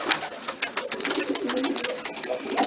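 Pigeons or doves cooing and fluttering inside a coop, a dense, steady chorus of overlapping calls close by with no talking.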